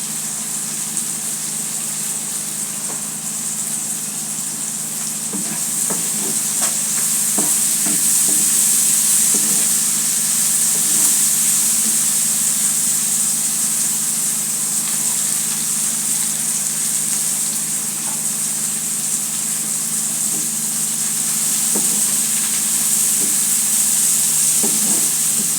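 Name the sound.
dried shrimp (icha shutki) frying in a pan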